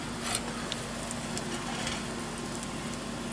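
Ribeye steaks sizzle steadily as they come off the heat with a long spatula, a constant soft crackling hiss with faint scraping ticks and no talking.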